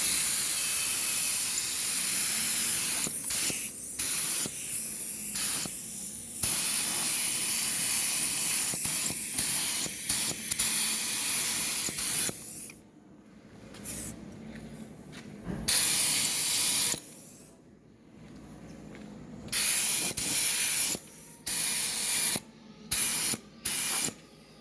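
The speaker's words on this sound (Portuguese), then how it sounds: "Agora eu vou fazer a aplicação do primer, apenas um primer local" Spray can applying primer to a plastic car bumper, long steady hissing blasts broken by short pauses, then a string of brief spurts, loud and close.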